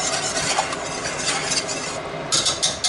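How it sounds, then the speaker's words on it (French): A whisk beating the thickening sauce for beef bourguignon in a pot, a fast continuous scraping swish close to the mic, with brief brighter clinks near the end. "Pour lier ma sauce, il me faut impérativement le fouet."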